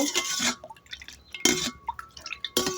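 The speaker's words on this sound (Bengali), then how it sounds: "লবণটা মিশিয়ে নিব ভালোভাবে নাড়াচাড়া করে গলিয়ে নেব" Metal spoon clinks and scrapes against a glass while salt is stirred into lemon sherbet, three quick bursts of close, bright tinkling spaced about a second apart with soft swishing between.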